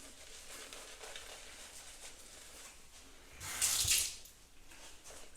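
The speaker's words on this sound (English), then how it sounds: "If you like your cream a little bit more watery, then just a little bit of water into the tip of the brush" A short burst of water is added to the tip of a shaving brush over a lather mug, a brief hiss-like splash rising from low room noise and then fading.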